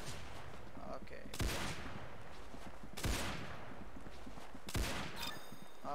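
Sniper rifle shots in the Roblox game Arsenal, three sharp loud cracks spaced about one and a half seconds apart over a steady game background.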